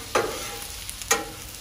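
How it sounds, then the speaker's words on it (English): Italian sausages and onions cook on a Blackstone griddle under a steady sizzle, cut by two sharp scraping strokes of a spatula pushing the onions around. "as we move the onions around"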